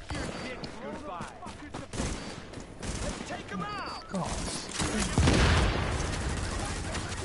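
Gunfire in The Division video game, including shots from a co-op teammate, crackles in dense bursts through the clip and peaks into a heavy salvo near the end, while players talk over the shooting.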